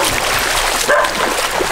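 Dogs guarding a house near Bikini Beach in Panglao, Bohol, Philippines give a brief bark over a steady wash of broadband noise, the barking faint and partly masked.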